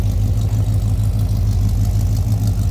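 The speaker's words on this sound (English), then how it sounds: "A little rumble coming out of that 350." The 350 V8 engine of a 1968 Chevrolet C10 truck idles steadily up close, a deep, even low rumble with a regular throbbing pulse and no revving.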